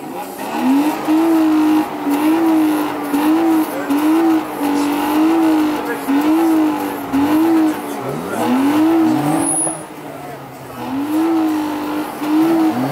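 At a national BMW E39 meet, a BMW E39 with an M52B20 engine revs repeatedly in close, loud rising and falling pulses, with people talking in the background.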